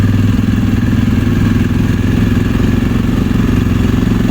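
A Can-Am engine runs under throttle in low-range reverse, making a loud, steady, throbbing mechanical drone with a pulsing low rumble that holds evenly throughout, close by and without talk.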